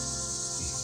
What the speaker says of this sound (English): The cicadas or whatever they are so loud.